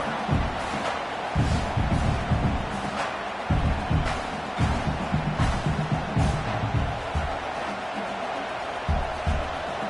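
Stadium crowd noise in the video game College Football 26, a steady loud roar of a large crowd with rhythmic surges of cheering and chanting, running throughout without clear talk on top.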